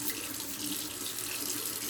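Tap water runs steadily into a sink as it warms up, a continuous close hiss and splash, faint and alone.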